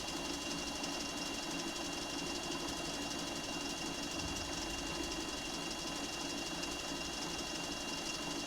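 A home sewing machine stitches white fabric on a Pokémon appliqué quilt, its steady mechanical hum and needle chatter running continuously at moderate, close range with no talking.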